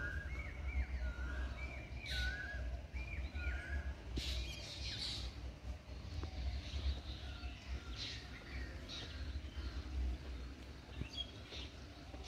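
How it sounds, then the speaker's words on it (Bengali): Birds calling by a resort swimming pool beside poolside cottages, repeated short squawks and chirps from several birds scattered over a soft outdoor background hum, faint to moderate and varied in spacing, no talking. "এখানেও অনেক পাখি দেখা যাচ্ছে, পাখির আওয়াজ শোনা যাচ্ছে।"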